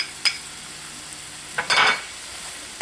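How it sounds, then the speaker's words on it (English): Flour being stirred into a hot pan to brown, soft background sizzle punctuated by a few quick scraping strokes and a brief clink of a utensil. "And I'm going to stir that around."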